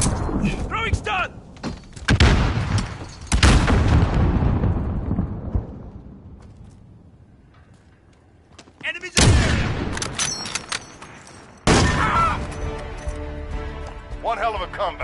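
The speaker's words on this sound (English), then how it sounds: "Throwing stun!" A stun grenade goes off in Call of Duty with several loud, sudden blasts spread apart, each fading into a long decaying ring, mixed with gunfire and game noise, with voices in the background.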